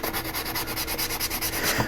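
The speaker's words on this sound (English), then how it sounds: "this is the fine sanding sponge, which is about 400 grit sandpaper. I'm doing this dry" A fine 400-grit sanding sponge rubs dry over primed model parts in steady, rapid back-and-forth scratchy strokes, close and continuous, with no talk.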